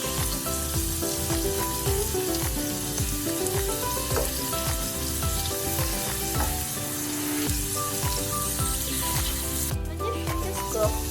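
Shrimp frying in a pan give a continuous close sizzle with crackling pops and occasional stirring scrapes throughout.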